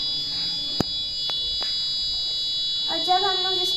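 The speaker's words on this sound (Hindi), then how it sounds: "जब बारिश का एक बूंद जब गिरेगा तो ये बजर बजने लगेगा" An electronic buzzer on a school rain-detector model goes off when water wets its sensor: a steady, shrill tonal whine that runs throughout, with a few clicks and handling knocks, and a voice speaking near the end.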